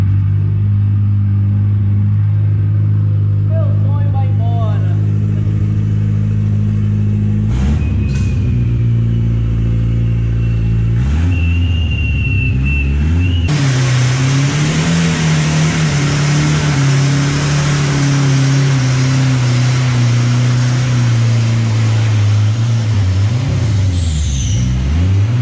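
A Chevrolet Chevette revs while driving, its loud close engine droning low and rising in pitch as it accelerates and shifts, with a brief hiss midway before the note climbs again.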